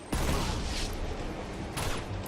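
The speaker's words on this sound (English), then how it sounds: "Throw a nade there." Gunfire and a grenade blast in the Uncharted 2 video game, a loud, dense burst of combat noise with sharp transient hits near the start and again near the end, continuous and close.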